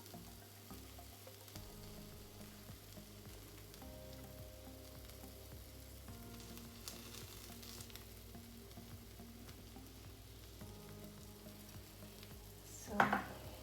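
Chili frying in a pan for spicy chili cheese toast, a faint steady sizzle running throughout with a brief clink of utensils near the end.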